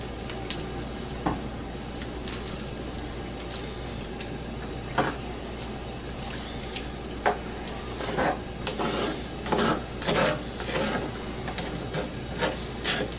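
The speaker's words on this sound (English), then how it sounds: "Stir my pasta." Pasta being stirred in a skillet with diced tomatoes and a thick puttanesca sauce, giving scattered wet scraping and clinking spoon taps against the pan, moderately close, over a steady low hum with no talking.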